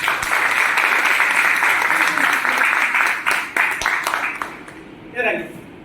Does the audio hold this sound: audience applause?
yes